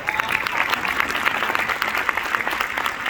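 An audience at a National Council of Negro Women address breaks into sustained applause, dense continuous clapping that fills the room without pause.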